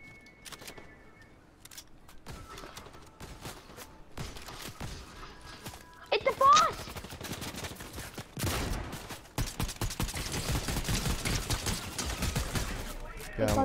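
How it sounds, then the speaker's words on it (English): Gunfire bursts in a Fortnite match, starting sparse and growing into dense rapid shooting during the second half, with players talking throughout. "What are you shooting?"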